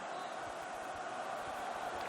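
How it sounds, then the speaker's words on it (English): A football stadium crowd at a 1991 San Diego State versus Miami college game, urging the coach to go for it on fourth down, heard as a faint, distant, sustained roar and chant without any clear individual voices. "Crowd imploring Dennis Erickson to go for it"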